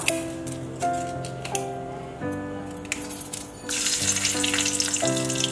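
Ghee sizzles steadily with a bay leaf and spices, the hiss rising and growing louder partway through, while tonal background music plays throughout.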